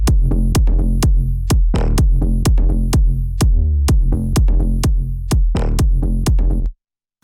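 A punchy electronic kick drum, EQ-split into low and high layers and played back together, thumps in a steady four-on-the-floor pulse for several seconds before stopping abruptly into silence.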